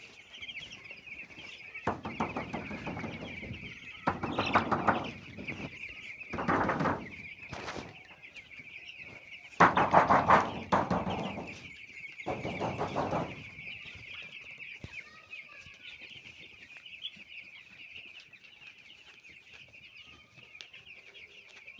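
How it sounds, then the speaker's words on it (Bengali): Roughly 600 young broiler chicks under a heat source in a farm brooder, producing a dense continuous bed of high chirping. Several louder bursts of clucking and flock noise rise and fall over it, with no speech. "এখানে আমাদের ব্রয়লার মুরগির বাচ্চা"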